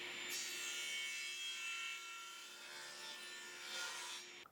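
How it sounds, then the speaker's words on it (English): A table saw cuts through a wooden marquetry box, giving a faint, steady whine with continuous rasping of blade through wood that fades near the end. "I like to use the table saw, but it doesn't really matter."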